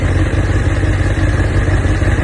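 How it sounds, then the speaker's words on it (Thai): A 2018 Honda CBR1000RR motorcycle engine running at idle after being started, a steady, loud, close-up rumble that holds an even level with no revving or voices. "อันนี้สตาร์ทเครื่องยนต์แล้วนะครับ"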